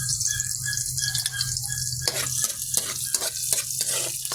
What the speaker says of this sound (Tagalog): Gisayin muna natin to.